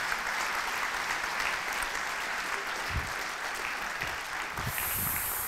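Sustained applause from a large keynote audience, dense and steady throughout with a brief brighter swell near the end.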